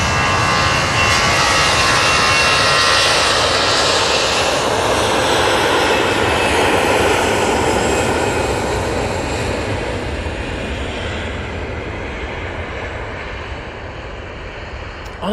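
An Airbus A321-200 jet at Manchester Airport, a loud, broad engine roar that fades slowly as the aircraft moves away.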